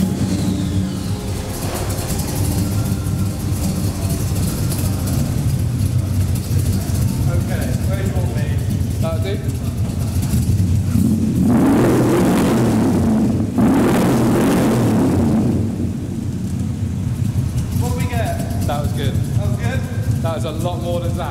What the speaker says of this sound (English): we're going to do a bit of a rev off to see how loud this car really is